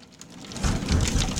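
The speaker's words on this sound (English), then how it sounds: "This is the second thunderstorm, isn't it?" Heavy rain pours during a thunderstorm, with a low rumble of thunder swelling midway and holding loud and near under the steady hiss of the downpour.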